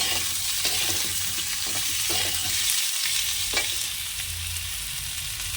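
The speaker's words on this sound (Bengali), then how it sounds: "তো এবার এর মধ্যে এই চিংড়ি মাছগুলো দিয়ে দেবো, তাহলে চিংড়ি মাছটা ভাজাও হবে" Prawns frying in a pan for a Barishal-style shukto, a steady close sizzle with occasional stirring scrapes running throughout, with no voices.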